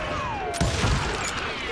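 Gunfire rings out in Call of Juarez Gunslinger, a Wild West shooter set during the Billy the Kid gang fight in Lincoln: a burst of close, sharp shots breaks through a steady game background and keeps going for over a second.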